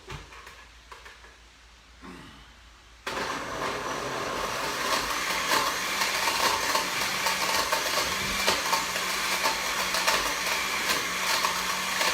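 A blender whirs up to mix a drink, kicking in suddenly after a few quiet seconds and then running at a steady, loud, broadband roar.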